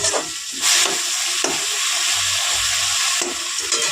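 Garlic, onion and tomato sautéing in a pan for a boal fish curry give a steady sizzle, broken by a few louder stirring scrapes, with no voices.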